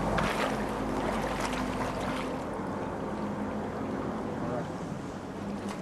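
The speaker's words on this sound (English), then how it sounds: "their electronic ear is deafened by the sound of 30 boats churning up half a mile of sea" Engines of some thirty boats churn up half a mile of open sea, a dense, steady roar of motors and water that stays loud throughout with faint talk in the background.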